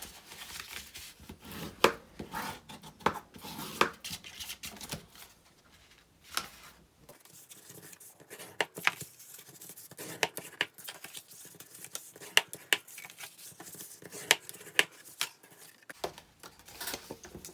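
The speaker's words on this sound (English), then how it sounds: "just take your bone folder and burnish all these lines on both your base and your lid" A bone folder burnishes score lines on a paper gift box base and lid, giving quiet close rubbing and sharp taps in irregular strokes, with faint background hum.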